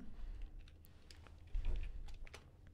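A few quick keystrokes on a computer keyboard as a short command is typed, quiet close clicks in small bursts over a faint background hum.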